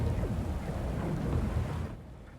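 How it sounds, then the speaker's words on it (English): A thunderstorm in the video game Pillars of Eternity 2: Deadfire, with a loud continuous wash of rain and low rumbling that drops off sharply near the end. "Oh, is this what controls the storm?"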